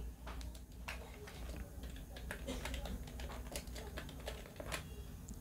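Keys clatter on a computer keyboard as a fastboot command is typed, a string of quick close clicks in uneven bursts over a low background hum, fairly quiet.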